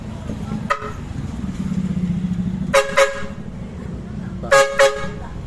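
A loud bus horn fitted to a Toyota Fortuner SUV blasts several times: one short toot, then two paired double honks, over a low engine rumble outdoors.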